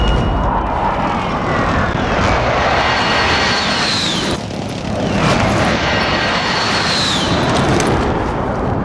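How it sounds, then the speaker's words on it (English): A precision airstrike aircraft flies over in Call of Duty Warzone, its loud jet roar sweeping past twice with a brief dip between the passes. "Friendly precision airstrike inbound."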